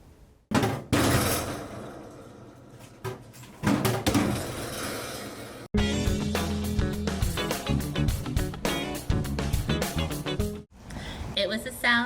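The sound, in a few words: books dropped into a library book drop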